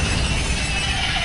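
A Bombarda blasting spell goes off in Hogwarts Legacy, a loud, close burst with a bright, shattering, crackling wash that holds steady for just over a second.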